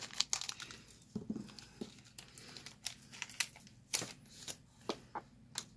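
Crinkly foil Pokémon trading card booster packs are torn open and crumpled in short, irregular rustles and snaps, close up, with no talking.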